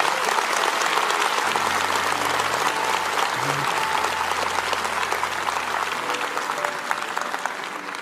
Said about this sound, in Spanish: Denles un buen aplauso a esos que están de pie.